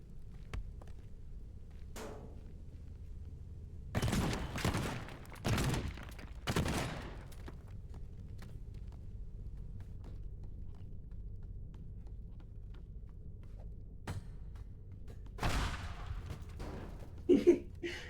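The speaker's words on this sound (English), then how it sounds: "Oh, pipe bomb, so cool." Pipe bomb blasts in the Teardown destruction game: a few loud, sudden bursts spaced apart over a quiet hum, followed later by another blast and scattered small impacts.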